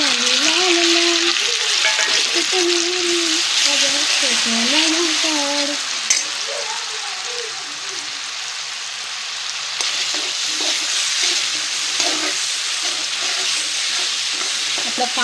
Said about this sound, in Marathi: आपला कांदा हा मस्त तळायची, आपण त्याला पूर्ण करून घेऊ.